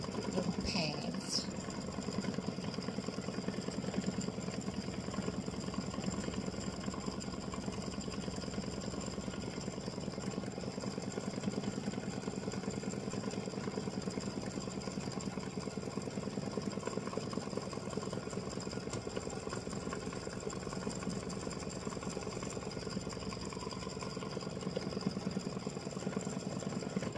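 An embroidery machine stitching a satin stitch hums and chatters rapidly and steadily at low level, a continuous mechanical whir from start to finish.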